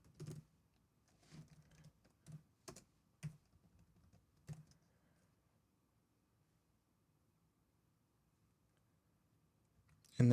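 Bursts of typing on a computer keyboard while web page code is written, with scattered clusters of close keystrokes over the first few seconds, then near silence, and a louder thump right at the end.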